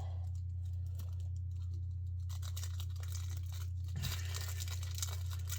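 A foil wrapper on a Strixhaven set booster pack is torn open, with close crinkling and ripping that swells into a denser burst of tearing midway.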